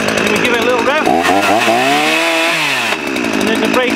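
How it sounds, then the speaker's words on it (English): A chainsaw fires up and is revved, a loud, close buzzing roar whose pitch climbs and falls through a rev before settling back to a rough idle. "Okay, and then we just start it. Then we give it a little rev, and then the brake's on."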